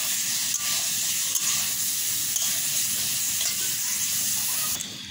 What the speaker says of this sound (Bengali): নাড়াচাড়া করে ভালোভাবে ভেজে নিতে হবে।